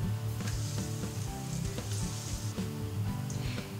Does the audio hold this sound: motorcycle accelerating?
no